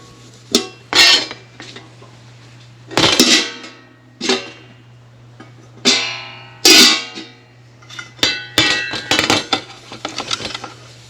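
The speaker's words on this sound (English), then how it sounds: "I'm just cleaning these lids on the top." Plastic food container lids being washed and cleaned while preparing a hot meal for homeless people, with a series of separate clattering knocks and clinks, moderately loud and close, over a steady low hum and no talking.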